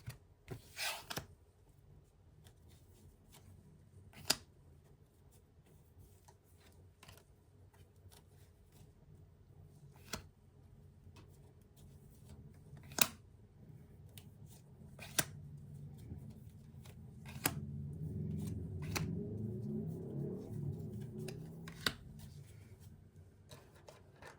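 Tarot cards handled at a table and laid out in a row: faint scattered taps and soft slides of cards, quiet and close, with a longer rustling stretch near the end.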